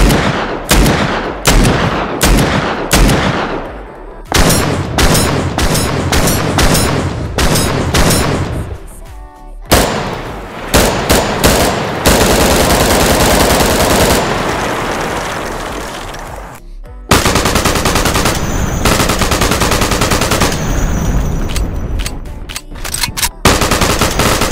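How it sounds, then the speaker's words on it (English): Loud gunfire from modern weapons in the Stabx Modern Guns video game: rapid automatic bursts, single sharp shots and sustained fire in dense, close succession with no talking. "Now, the gun sounds of a lot of guns has been updated."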